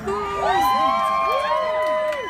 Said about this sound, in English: Please hold your applause to the end, okay.